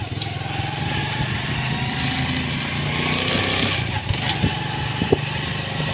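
Motorcycle riding along a road toward a roadside bazaar, its engine droning steadily and loudly throughout, with wind noise and a few brief knocks.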